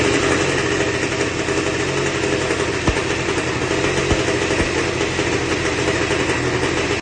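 A turbocharged VW Beetle engine runs steadily just after its first start, a loud, even idle with a few sharp pops or knocks cutting through the drone.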